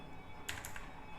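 A burst of quick keystrokes on a computer keyboard, faint and close, a few sharp clicks clustered in the middle over a quiet room hum.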